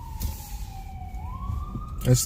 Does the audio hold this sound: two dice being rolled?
no